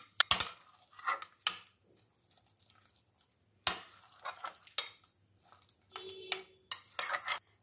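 A spoon works mayonnaise sandwich filling in a bowl with scattered clinks, scrapes and soft wet squelches, brief bursts separated by quiet gaps, close and fairly faint.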